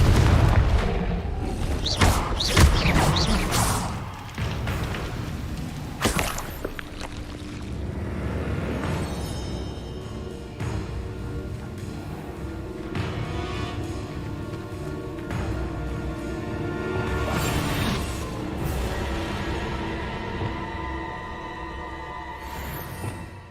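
Confringo and Glacius spell blasts fired in a Harry Potter video game, a dense run of loud booming, crackling impacts and whooshes layered over one another for the whole stretch, with no talking.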